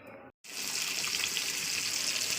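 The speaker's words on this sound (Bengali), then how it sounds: "বসিয়ে দিয়েছি কড়া, দিয়ে দিচ্ছি সর্ষের তেল, শুরু হবে মাছ ভাজা।" Fish hit hot mustard oil in a small wok on a gas stove, and a loud, steady sizzle rises abruptly after a brief silence and holds close and continuous.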